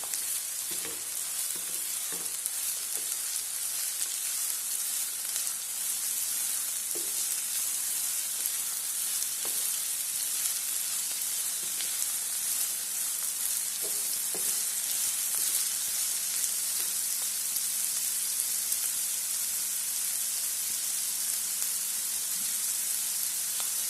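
Bell pepper and carrot sautéing in a pan give a continuous hissing sizzle, with occasional soft stirring taps and clinks close by.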